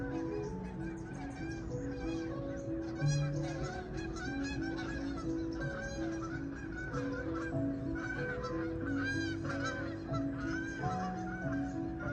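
Geese honk repeatedly outdoors after rain in California, their calls overlapping in a busy, fairly close chorus with other bird calls over a steady background, going on for the whole stretch.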